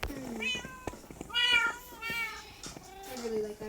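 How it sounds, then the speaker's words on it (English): Cat meows in Minecraft, several short rising and falling calls spaced across a few seconds, clear and fairly close, with faint game sounds between them. "I really like that brown cat."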